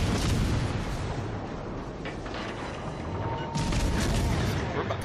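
Naval guns fire in a World of Warships Legends battle aboard the cruiser Worcester, a dense, loud wash of booming blasts and mechanical clatter with a fresh burst near the end.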